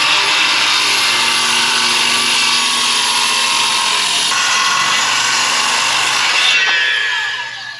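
A Makita power saw cuts through wooden boards in a steady, loud, continuous whine lasting several seconds. The pitch holds even throughout, and the sound tails off at the very end as the cut finishes.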